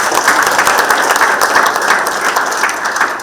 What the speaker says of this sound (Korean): 큰 박수 한 부탁을